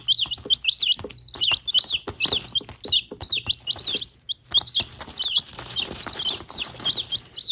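Barred Rock chicks chirping busily up close, a steady stream of high, rapid peeps from several young birds overlapping with little pause, with faint soft bumps underneath.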